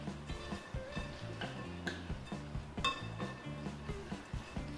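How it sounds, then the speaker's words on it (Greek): Brown sugar is stirred into a sticky cereal bar mixture in a bowl with a utensil, giving repeated soft scraping and clinking strokes at a steady rhythm, close and fairly quiet, with no voices. "Ανακατεύω."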